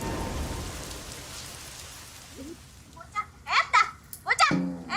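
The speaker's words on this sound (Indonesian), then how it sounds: "Cinta abang ke Yuli, kayak derasnya hujan ini nih." Heavy rain pours down in a steady hiss that gradually thins, while children's voices and splashing play come in close toward the end.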